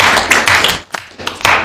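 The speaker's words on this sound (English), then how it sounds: "Everybody give a round of applause, please." Brief clapping from a small audience at a JROTC gathering honoring a retired colonel and Vietnam POW, a few loose bursts of hand claps with short gaps, close and fairly loud.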